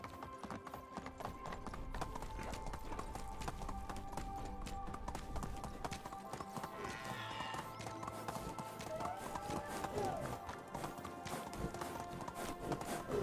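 Horse galloping in the medieval village game Medieval Dynasty: a steady, fast stream of clip-clopping hooves throughout, fairly quiet and even, with faint ambient game sounds and music tones underneath and no talk.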